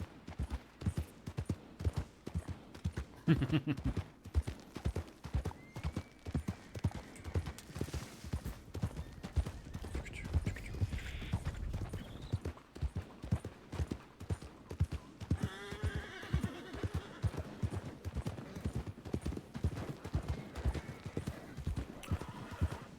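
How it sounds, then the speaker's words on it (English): Rapid, rhythmic hoofbeats of a group of galloping horses in a video game run throughout, with an occasional neigh rising above the pounding. "it's always going to sound like a galloping group of horses"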